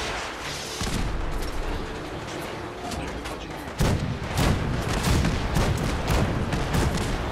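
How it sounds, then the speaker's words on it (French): Ship cannons firing in the Fallout 4 video game, a series of heavy booming blasts in quick succession over a dense, noisy background of gunfire. "Faut utiliser les canons."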